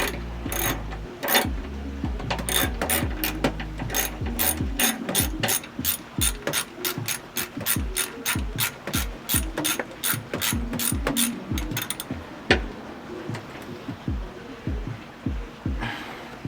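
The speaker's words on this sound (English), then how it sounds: "So then from there, switch your ratchet" A ratchet tightens bolts while Hybrid Racing detent springs go into an Acura RSX DC5 with a K20A2 engine, a steady run of close, loud clicking strokes that keeps up for many seconds before slowing to a few scattered clicks.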